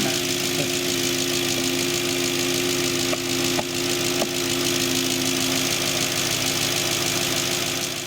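A 4.2-litre V8 in an Audi S4 idles steadily up close, a constant low mechanical hum with light ticking and a few faint knocks throughout, no voices.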